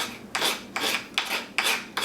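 A rasp file scraping across a wooden plug in a hockey stick end in five steady, rhythmic strokes, loud and close, with no voices.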